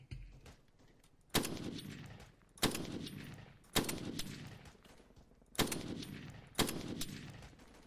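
Gunfire in the Arma 3 tactical co-op shooter: six sharp shots ring out at irregular intervals, each with a long decaying echo across open terrain, over a low background rumble.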